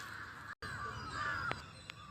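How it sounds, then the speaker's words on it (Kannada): Two short, harsh crow caws ring out over a steady background hum, one near the middle and a fainter one toward the end. "ಕಾಗೆಗಳು ಕ್ಯಾ ಕ್ಯಾ ಕ್ಯಾ."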